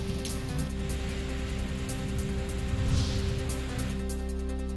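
Steady rain with stormy wind in Gondia district, Maharashtra, a dense continuous hiss and patter with a constant low rumble throughout, no voices.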